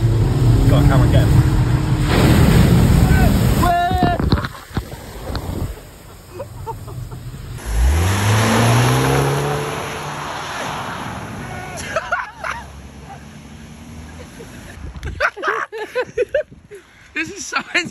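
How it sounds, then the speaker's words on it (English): A car approaches and passes close by through a huge roadside puddle while people shout and chatter excitedly, and its engine swells and fades as it goes by. "Nick, there's a car!"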